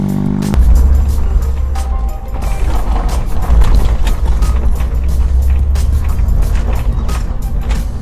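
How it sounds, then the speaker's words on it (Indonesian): A 1976 Toyota Corona Deluxe sedan with a 1.6-litre carburetor engine runs steadily, a loud, close, continuous low drone with light mechanical clatter and no talking. "Ini mesinnya enak banget walaupun tahun 1976 ya, tapi mesinnya benar-benar senyap"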